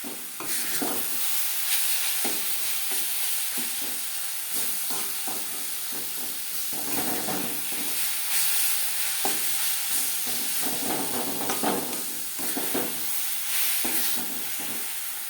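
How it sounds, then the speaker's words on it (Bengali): A hot pan of carrot laddu mixture being stirred, with a steady close sizzle and hiss under repeated scraping and stirring strokes, no talking. "এইভাবে নাড়াচাড়া করে করে দেখে নিতে হবে যাতে একটা লাড্ডুর আকারে শেপ দেওয়া যায়"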